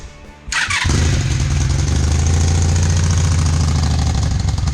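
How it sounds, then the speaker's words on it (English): A Honda Magna cruiser motorcycle engine cranks briefly, then catches and settles into a loud, steady running idle with a deep, even rumble and no talking. "Starts right up every time. Runs great."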